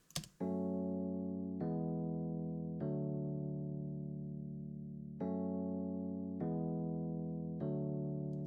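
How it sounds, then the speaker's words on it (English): Electric piano part from a cover, playing sustained harmonic chords that change every second or so, warm mids and lows, steady and moderately loud, alone with no voices. "And we have this E-piano."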